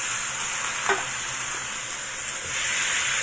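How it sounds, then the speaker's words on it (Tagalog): Half a chicken frying in a pan with onions and garlic gives a loud, constant hiss and sizzle, with a brief scrape of stirring near the start. "so i-fry lang din natin yan hanggang sa maging brown ng kaunti yung ating chicken"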